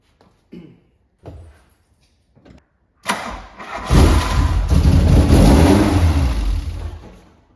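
After a camshaft replacement, a car engine cranks in a few short bursts, then fires up at about three seconds and revs up to a loud, sustained high idle close by.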